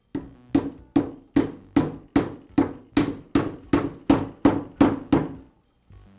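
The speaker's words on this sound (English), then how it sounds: "use my mallet to tap the bearing into place" A mallet strikes a socket to seat a bearing onto the armature shaft of a DeWALT sander during repair: about a dozen sharp, evenly spaced metallic taps, close and loud, with a final hit after a brief pause.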